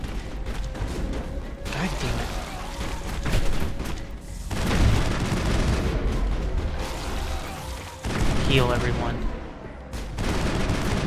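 Rifle fire from the Mass Effect video game rattles in sustained bursts with booming impacts, dense and loud throughout, with brief speech mixed in.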